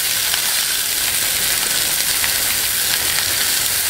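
Stuffed chicken with asparagus and goat cheese, skin side down, frying in a pan: a loud, dense, steady sizzle heard up close for the whole stretch, with no voices.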